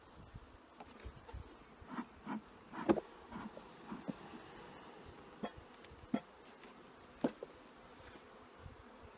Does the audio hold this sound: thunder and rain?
no